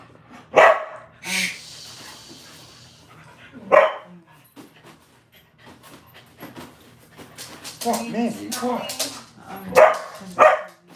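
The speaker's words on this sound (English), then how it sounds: "barking" A dog barks several times in sharp, scattered bursts with a few yips, while a person speaks encouragingly nearby between the barks.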